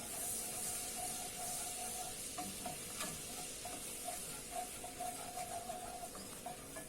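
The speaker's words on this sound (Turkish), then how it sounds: "Unumun kokusu çıkıncaya kadar kavuracağım." Flour stirring and roasting in melted butter for a Hünkar beğendi sauce gives a steady close sizzle and a continuous scraping stir, with no voices.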